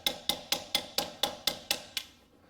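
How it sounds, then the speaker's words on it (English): A hammer taps a socket loose during a rear differential service, landing nine sharp metallic strikes in a steady, even rhythm, each one ringing briefly before the next, with no talking over them. "just tap my socket again as I pull it out"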